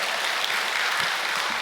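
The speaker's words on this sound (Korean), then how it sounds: "큰 박수로 주진태 회장님을 모시겠습니다" Audience applause at a church blessing ceremony, a dense, steady wash of clapping throughout, welcoming the chairman to the stage.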